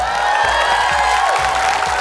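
A studio audience on the Indonesian game show Family 100 cheers and applauds the comedians, a loud, continuous roar of clapping and whoops under music with tonal lines.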